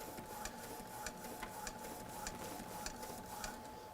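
An inkjet-style printer runs with a steady mechanical whir and evenly spaced clicks or ticks roughly twice a second, during a fall décor craft session with VersiFlex expander prints.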